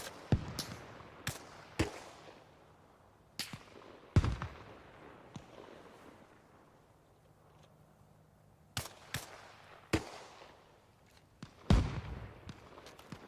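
An anti-aircraft gun fires in Arma Reforger, its sharp, echoing bursts coming at irregular intervals, some in quick doubles and triples. Each report rolls off into a long reverberant tail, sounding fairly distant over a quiet background.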